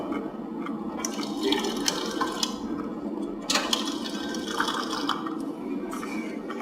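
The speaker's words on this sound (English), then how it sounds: "this is a combination of toilet and sink, and the sink provides fresh water." Fresh water runs and splashes from a combination toilet and sink unit, a continuous close rushing with irregular bright spatters and drips, no voices.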